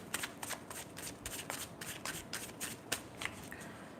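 Tarot cards being shuffled during a reading: a steady run of crisp riffling and flicking bursts close by, quiet and continuous with no voices.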